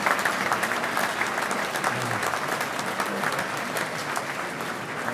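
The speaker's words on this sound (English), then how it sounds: "Give your parents a round of applause." A large crowd at a spring quarter graduation ceremony applauds the graduates' parents, dense sustained clapping at an even level throughout, with no one speaking over it.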